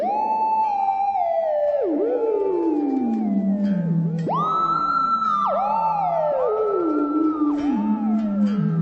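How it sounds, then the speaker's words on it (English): Sweeping synth-like guitar tones from a Korg Pandora PX4D effects unit glide up and down in pitch, with long bends and swells that sound almost like sirens, steady and loud throughout. "we've got some specialty effects in here, like synth style effects"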